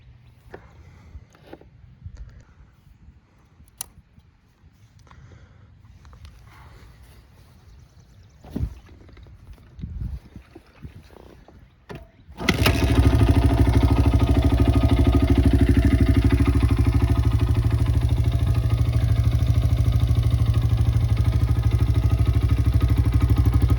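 A 2002 Honda XR100 pit bike, freshly restored, sits quiet with a few clanks and small noises before its engine starts abruptly. It then settles into a loud, steady, close idle that lasts to the end.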